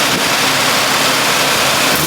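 The Electric Goober's engine runs loud and steady at close range for a couple of seconds, a dense even roar with no talk over it.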